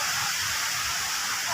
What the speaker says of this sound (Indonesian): anginnya Pak.